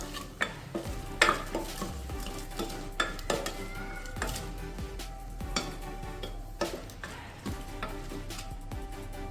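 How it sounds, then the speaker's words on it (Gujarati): Spices stirred into oil inside a pressure cooker for veg pulao: a spoon scrapes and knocks against the metal pot in irregular clanks and scrapes, close-up, over a soft background sizzle. "હવે બધા જ મસાલાને આપણે અહીંયા સારી રીતે મિક્સ કરી લેવાના છે."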